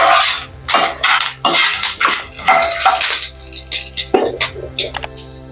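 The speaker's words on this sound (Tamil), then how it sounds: "2 கிராம்பு, ஒரு சின்ன துண்டு பட்டை சேர்த்து கலந்துக்கலாம்." Star anise, cloves and a small piece of cinnamon stirred in a cooking pan for Chettinad chicken masala, loud scraping and clattering strokes in uneven bursts close by.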